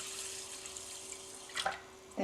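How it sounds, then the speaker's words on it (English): Water is poured into a rice cooker pot of Japanese rice with a soft, quiet trickle, then a couple of brief, brighter splashing bursts toward the end. "we'll pour in more water"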